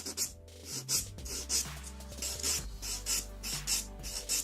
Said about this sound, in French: le petit buffer doux. On passe un petit coup partout.